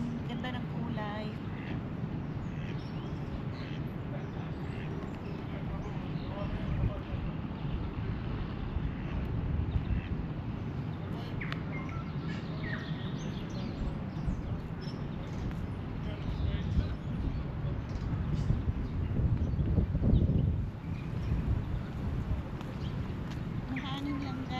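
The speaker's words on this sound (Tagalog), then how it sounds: "Mahangin lang guys." Gusty wind buffeting the microphone outdoors along a cherry blossom walk, a steady low rumble throughout with a stronger surge near the end, while a voice talks over it.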